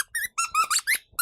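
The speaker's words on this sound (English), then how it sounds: "It's a squeaky toy." A squeaky cat toy from a dog subscription box, squeezed in six quick, bright squeaks in an uneven rhythm, close and fairly loud with short gaps between.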